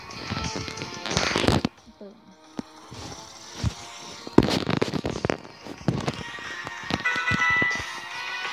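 Ember fire attack in the Roblox game Pokemon Brick Bronze, a dense crackling, popping burst with sharp bangs layered over game music and effects, with a voice talking at times.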